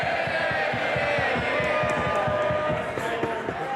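MPs in the House of Commons cheer and bang in a loud, continuous roar, with rhythmic thuds pounding steadily beneath the crowd noise throughout.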